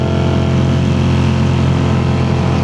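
A 1981 Honda CX400C motorcycle engine runs steadily and loudly up close, its smooth, even drone holding without pauses or voices.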